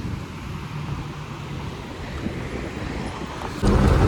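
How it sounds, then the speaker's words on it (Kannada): Sea waves and wind on a rocky shore where the water has risen close, a continuous broad rushing roar with gusty wind buffeting the microphone, swelling louder near the end. "ಗಾಳಿ ಅಲೆಗಳು ಎಷ್ಟು ಹತ್ರದಲ್ಲಿ ಬರ್ತವೆ"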